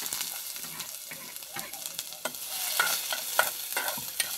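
Chopped onion sautéing in a pan for beef empanada filling, with a soft steady sizzle under repeated scraping and stirring clatter, moderately close, no talking.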